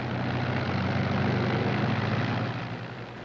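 Piston engines of World War II P-38 and Mustang fighter aircraft drone steadily and fairly loud, a continuous propeller roar that fades slightly at the end, with no voices.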